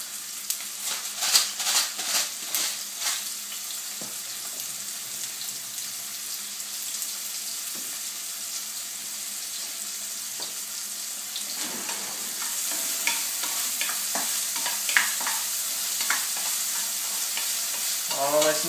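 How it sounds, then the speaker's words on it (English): Onions sizzle in a hot pan for braised short ribs, a steady crackling fry that continues throughout with occasional scrapes and stirring clatter, close and without talk. "Put in the onions, get a nice sizzle on."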